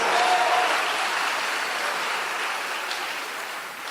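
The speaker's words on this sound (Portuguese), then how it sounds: "Dê um aplauso a Ele e dê um grito de vitória nessa noite, querido" A church congregation applauding and cheering during an evening service, a loud, dense wash of clapping that fills the whole stretch, easing slightly toward the end.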